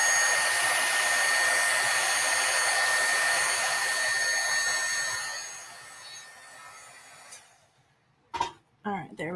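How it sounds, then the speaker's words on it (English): A heat tool, like a hair dryer, blows steadily at close range to dry ink on a stamped card, a loud continuous whoosh that cuts off near the end, followed by brief handling sounds. "And then I am going to dry this just for a second."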